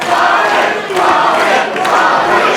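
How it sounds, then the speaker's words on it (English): A loud wrestling crowd at a match between Bobby Marshall and Marcius Pitt roars and cheers continuously, a dense wash of voices swelling slightly in waves. "Listen to the crowd here, Olsen."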